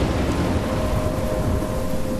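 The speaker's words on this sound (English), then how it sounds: "I'm trapped in a storm?" Thunderstorm in the video game Life is Strange near a lighthouse, a dense, loud, continuous roar of heavy rain and rumbling thunder filling the whole stretch without pause.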